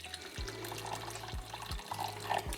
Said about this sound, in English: I've used boiling water.